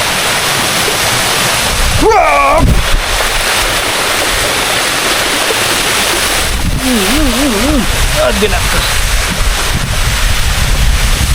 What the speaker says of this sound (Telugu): Bye bye water fall, bye bye.